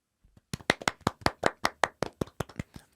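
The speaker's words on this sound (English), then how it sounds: "Please clap for Serena." A single person claps for Serena, about fifteen crisp, close claps in a quick, slightly uneven rhythm following a couple of soft starting taps, with nothing else around them.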